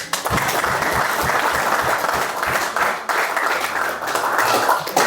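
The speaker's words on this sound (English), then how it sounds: "Should we give them a round of applause?" Players and staff clap together in a cricket team dressing room after an IPL 2025 match, loud close-up applause with distinct individual claps and some cheering voices mixed in.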